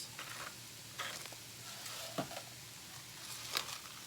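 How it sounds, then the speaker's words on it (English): Cabbage and sausage sauté in a skillet with a faint, steady sizzle, broken by a few soft scrapes and clicks of stirring. "It has sauteed for a bit here in the skillet"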